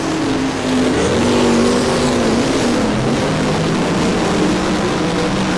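Sprint cars racing around the Monarch Motor Speedway oval, a steady loud engine drone with a wavering pitch holding throughout, no voices.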